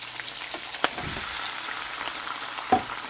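Steady low sizzle of beef sauteing in a pan as tomatoes go in, with two sharp clinks of a utensil against the pan.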